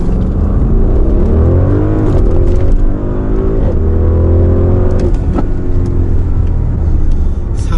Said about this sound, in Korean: 시속 100km 가속 시간을 측정해 보도록 합니다